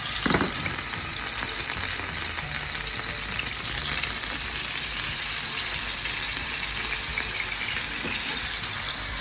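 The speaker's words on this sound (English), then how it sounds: "here I am adding the pork chops. I'm gonna make sure I spread out the oil" Pork chops frying in hot oil in a pan, a loud, dense, continuous sizzle close by, steady from start to finish with a few faint scrapes.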